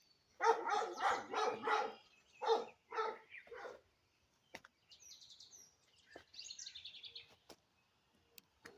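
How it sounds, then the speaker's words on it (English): A daughter's pet dog in a flower garden, heard as a quick run of close, loud barks in the first two seconds, then a couple more at about three seconds, followed by quieter chirping birds. "That's my daughter's dog."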